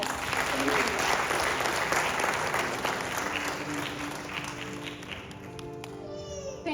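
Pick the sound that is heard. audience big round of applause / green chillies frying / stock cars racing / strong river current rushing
audience big round of applause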